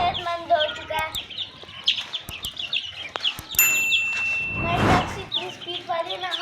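Desi chickens cluck and chirp nearby in a short, irregular series, with a rooster among them and a brief louder rustle partway through, while someone talks over them.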